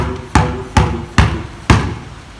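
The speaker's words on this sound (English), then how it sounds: "when you are bouncing the ball, you pound it as hard as possible" A basketball is pounded hard against a floor in a dribbling drill, giving four sharp, loud bounces at a steady, quick rhythm with brief room echo and no talk.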